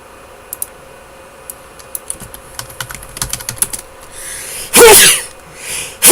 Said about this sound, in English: Sorry, spelling errors make me sneeze.